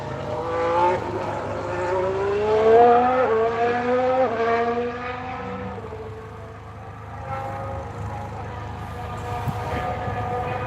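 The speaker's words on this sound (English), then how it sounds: "Let's compare the sound of the Ferrari. Sounds a lot cleaner, the Ferrari." A Ferrari racing car passes during a test session, its engine a loud, clean, high-revving whine that climbs through the gears, peaks close by, then fades into the distance as another engine rises faintly behind it.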